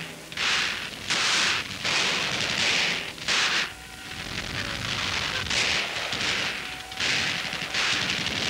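Archival 1963 Vietnam war footage of sniper gunfire in a rice paddy, heard as repeated bursts of sharp, noisy reports alternating with quieter lulls, fairly distant and muffled by old recording hiss.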